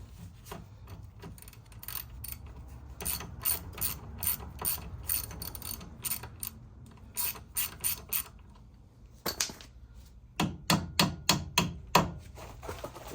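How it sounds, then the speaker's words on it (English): A screwdriver is hammered through a ball joint stud on a second-generation Ford Explorer front axle: sharp metallic blows land in quick rhythmic bursts, a steady run of strikes, a pause, then another flurry of hard hits close by. "You take a screwdriver you don't particularly like and pound it through the rest of the way."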